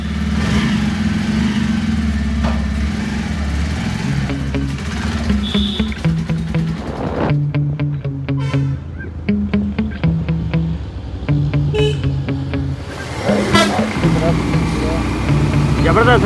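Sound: motorcycle engine while riding

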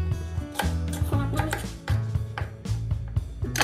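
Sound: knife slicing cherries for white wine sangria

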